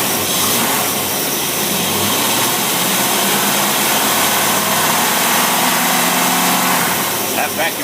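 Engine with an Edelbrock 1405 carburetor and manual choke runs steadily at close range, a loud continuous drone holding even throughout, with a brief change in tone near the end.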